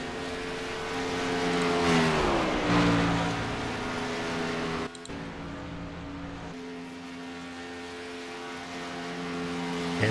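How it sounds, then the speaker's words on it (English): Race trucks lap the Auto Club Speedway, engines droning and shifting pitch as they pass at a distance, a steady mechanical hum with one falling sweep early on. "Handful of cars still out there trying to get their last laps in before we go to qualify."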